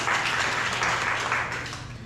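A community coffee-chat audience claps over recycling news, a short burst of mixed clapping that fades within two seconds.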